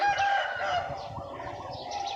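A rooster crows once at the start, a fairly faint, clear call at some distance over low outdoor background noise on a morning in the countryside.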